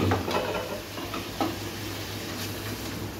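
Onion paste masala is stirred and fried in a pan, giving a steady low sizzle broken by a few soft scraping strokes and light taps.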